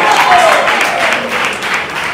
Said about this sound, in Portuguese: Pode aplaudir ao Jesus Salvador